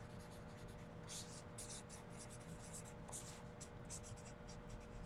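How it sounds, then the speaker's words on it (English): A pen moves quickly across paper by hand in a short, faint, close-up burst of scratchy strokes, with a low background hum and no talking. "I'm going to write fast"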